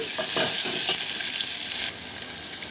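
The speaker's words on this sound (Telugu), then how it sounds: "ఇందులో కట్ చేసి పెట్టుకున్న ఆనియన్ తీసుకోండి ఆనియన్ మంచి కలర్ వచ్చే వరకు వేగనివ్వండి" Sliced onions fry in hot tempering oil, a continuous close sizzle broken by the scrape and clatter of a spoon stirring the pan in the first half.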